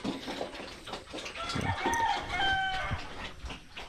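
Chickens cluck and crow nearby in a farmyard, with several overlapping bird calls and short vocal bursts throughout.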